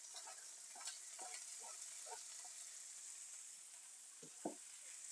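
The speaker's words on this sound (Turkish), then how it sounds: "Şimdi ıspanağımı ilave ediyorum." Spinach goes into a pan of sautéing peppers and onions and fries with a quiet, steady sizzle, broken by a few soft stirring clicks and scrapes.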